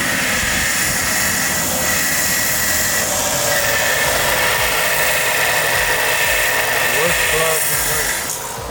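Loud continuous grinding and sanding on metal while prepping a car part for welding in a garage turbo build, a steady harsh whir with brief pitch shifts near the end.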